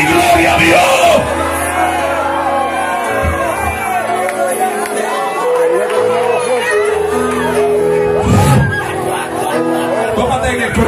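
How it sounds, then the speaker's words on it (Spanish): A church congregation shouts and cries out amen and glory to God, a loud mass of overlapping voices and whoops filling the room, with a few louder bursts of shouting near the end. "Alguien grite amén y gloria a Dios."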